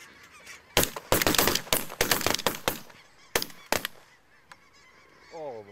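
Snow geese honk loudly and repeatedly but a big flock is not what carries here; instead sharp, loud bangs burst in quick clusters, likely gunfire, before the calls fade to a faint distant honking near the end.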